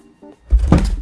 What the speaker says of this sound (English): that was my phone falling